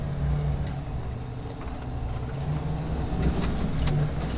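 A car engine hums steadily with road rumble, a continuous low drone while the vehicle drives along.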